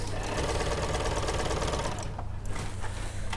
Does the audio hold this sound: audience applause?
no